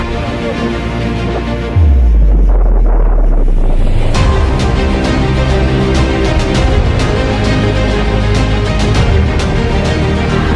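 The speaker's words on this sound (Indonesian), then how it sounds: "Seketika itu angin kencang, guntur dan kilat menyambar berkali-kali." A strong, roaring wind gusts loudly and continuously, with a deep rumbling surge near the start and a sustained hiss throughout.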